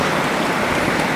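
Heavy rain pouring steadily on a mountainside during a rescue trip, a dense, loud, unbroken hiss filling the whole short stretch with no voices.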